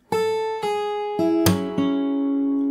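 The new section of a song on fingerstyle acoustic guitar, with five clearly plucked notes and chord tones ringing out one after another, close and clean with no voices.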